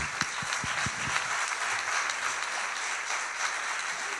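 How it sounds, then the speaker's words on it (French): Sustained applause from a conference audience, a dense, steady crackle of many hands clapping, close and fairly loud, with a few sharper individual claps near the start. "on peut les applaudir en effet."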